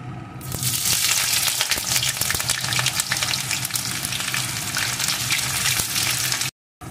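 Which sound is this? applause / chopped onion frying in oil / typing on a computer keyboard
chopped onion frying in oil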